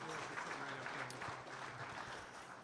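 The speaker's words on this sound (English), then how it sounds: "Give those guys a big round of applause." Applause from a crowd at a livestock auctioneering competition, steady clapping for the judges with a voice speaking over it.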